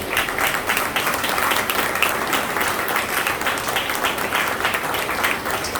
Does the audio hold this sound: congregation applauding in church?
yes